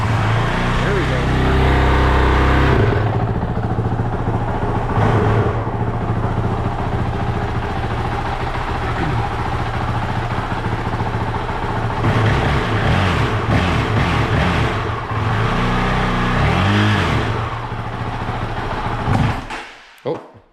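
A Honda CRF450RL motorcycle engine fires up after a hard start, running loud and close with a deep, throbbing low rumble that drops away near the end as it stalls.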